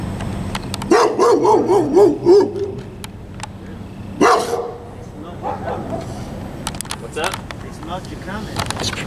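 A dog barks on a city sidewalk, a run of sharp repeated barks early on, then another loud burst, with street noise and people talking around it.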